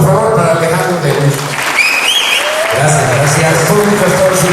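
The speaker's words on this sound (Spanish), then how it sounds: "Un aplauso, por favor, para Alejandro Delius." Audience at a talk on Antarctica claps for a speaker, a steady wash of applause throughout, with a voice speaking over it in the middle.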